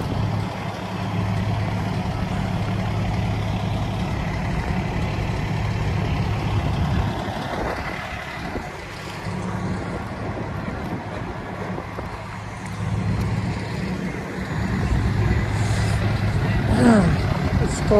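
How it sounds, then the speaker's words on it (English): Several fire trucks idle outside an old house on fire in cold weather, a continuous low engine rumble holding steady nearby, with a voice speaking over it. "There's so many fire trucks on here, eh?"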